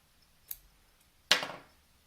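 Scissors snip thread while a salmon twitching jig is tied, a faint short click followed by a sharper, louder cut that rings briefly, both close and isolated in a quiet room.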